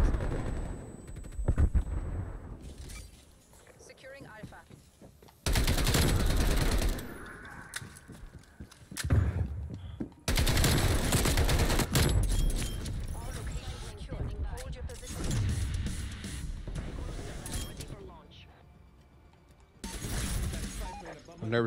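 Gunfire from a small gun in the video game Call of Duty Black Ops Cold War. Loud, harsh bursts of shots arrive in several separate volleys, with quieter game mechanisms and ambience between them.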